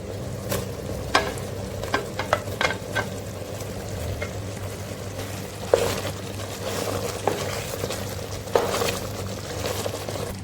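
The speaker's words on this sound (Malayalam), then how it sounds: "ഇനി നമുക്ക് ഇതിനകത്തേക്ക് ഫ്രൈ ചെയ്തിരിക്കുന്ന ചിക്കൻ ഇട്ട് കൊടുക്കാം" Steady frying sizzle as fried chicken goes into simmering Afghani chicken gravy, with scattered spoon clicks and stirring scrapes against a pot, no talking.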